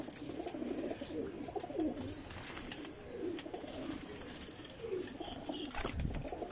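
Highflyer pigeons in Lahore coo softly in repeated low, throaty calls over a steady background hiss, with faint chirps and no talking.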